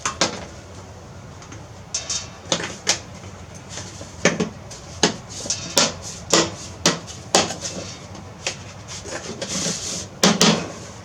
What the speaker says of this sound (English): Time to pop on the plastic trim.